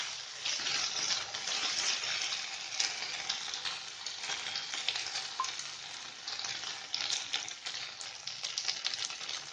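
Chopped tomatoes fry in a pan over medium heat while making bottle gourd moong dal, a steady bright crackling sizzle that runs close and unbroken throughout with no voices.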